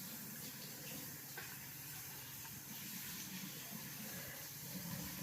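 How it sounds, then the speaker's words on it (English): Running tap water splashes steadily into a sink as hands are washed during a palitaw rice-cake cooking class, a continuous moderate hiss and splatter with no talk. "I'm gonna wash my hands now."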